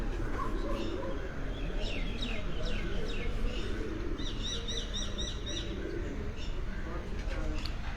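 Pigeons cooing and chirping at a rooftop loft, a soft continuous warble of coos with brighter chirps, heard beneath someone talking nearby.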